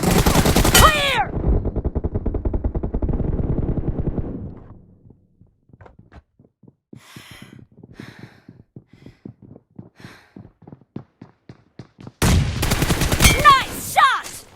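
Rapid bursts of automatic gunfire from a PUBG match, a loud sustained volley at the start, then sparse scattered shots and clicks, before another heavy close burst near the end.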